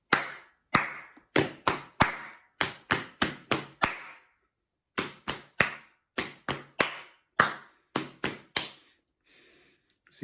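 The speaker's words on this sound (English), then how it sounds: "So I've just chosen a different part of my body, my legs, to play the naan bread, and I'm still clapping my hands on the rice." Close, crisp hand claps alternate with duller pats on the legs in a fast, steady rhythmic ostinato, played alone in repeating groups with a short break midway.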